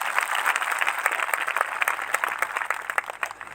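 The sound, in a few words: applause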